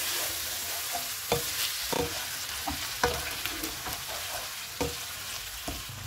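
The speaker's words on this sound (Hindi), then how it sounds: "चिकन डालेंगे। चूल्हे को फुल रखेंगे, इसको 4 से 5 मिनट तक भूनेंगे।" Chicken coated in ginger-garlic paste fries over a high flame in a pot, giving a soft steady sizzle broken by repeated scraping clacks of a spoon stirring it.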